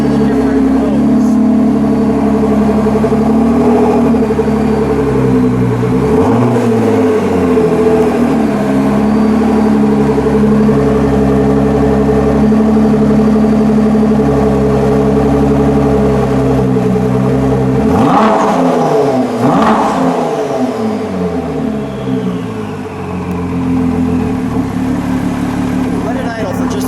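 A white 2017 Ford GT's twin-turbo V6 idles steadily up close, rising into a couple of brief throttle blips with swooping revs before dropping back to a loud, even idle.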